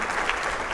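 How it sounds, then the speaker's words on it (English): A brief, steady patch of audience applause, dense clapping at moderate volume with no voices on top. "Give Blake a round of applause, everybody."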